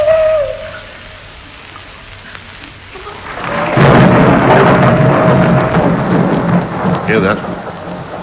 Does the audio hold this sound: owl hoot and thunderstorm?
yes